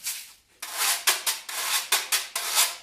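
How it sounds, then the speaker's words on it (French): A percussion instrument played by rubbing gives repeated raspy scraping strokes, about eight close, loud swishes in an uneven rhythm after a brief pause, with no voices. "Il y a des instruments qu'on frotte."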